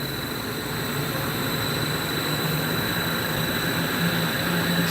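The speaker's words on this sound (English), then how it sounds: "Oh, blower's starting." A Baldor blower motor in an AAON unit, freshly repaired, runs with a loud, steady whirring roar and a constant hum, unchanging from start to finish.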